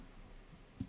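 Two quick mouse clicks near the end, selecting regions in CAD software while making panel lines, sharp and close after a quiet stretch.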